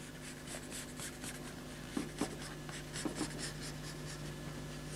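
A pen scratches steadily across card while drawing a face for a paper bag puppet, a soft continuous writing rub with a few sharper strokes, close and alone over a low steady hum.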